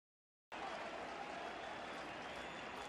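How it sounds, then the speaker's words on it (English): A baseball stadium crowd cheers and applauds after a catch that robbed a home run, starting abruptly and continuing as a dense, steady roar without any clear speech. "He crawled up over the wall to take a home run away from Derek Jeter, and they're still cheering"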